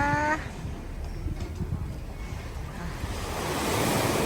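Sea waves wash steadily onto the shore at night beside a seaside restaurant, a continuous broad rushing surf that swells slightly louder toward the end, with no talk over it.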